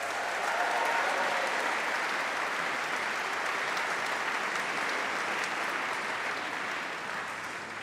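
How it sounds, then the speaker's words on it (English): A large graduation congregation hall fills with sustained applause and cheering for the graduands' supporters, a dense, even roar of many hands that holds steady for several seconds before easing slightly at the end. "let's give a round of applause and a cheer to those people who've helped you"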